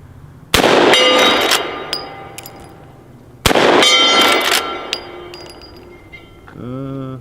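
Two loud shots from a Marlin 1894 lever-action rifle seconds apart, each followed by a bright metallic clang from a steel plate ringing out, with a brief voice at the end.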